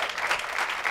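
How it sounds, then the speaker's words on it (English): Brief burst of audience applause at a European ecovillage gathering, a dense steady patter of many hands clapping close by, with no voices over it. "applause to Siebenlinden and all other eco-villages and sustainable communities"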